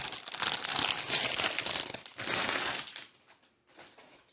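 Loud plastic packaging crinkles and crackles for about three seconds as it is torn open, then a few softer rustles follow.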